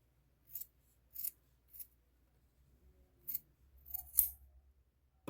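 Sharp scissors snip through crochet yarn in a handful of separate crisp cuts, close and clear against quiet, the last few coming in quicker succession.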